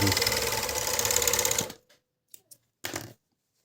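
A Sewtec GK257 sewing machine stitching fabric makes a steady, loud whirring rattle up close for under two seconds, then stops, followed by a few faint clicks and a short mechanical buzz.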